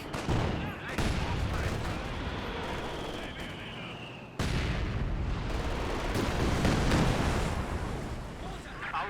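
Machine gun fire and battle noise in the video game Company of Heroes 2, rapid bursts and shots over a dense rumbling wartime soundscape, with a brief cut midway; a commentator talks over parts of it.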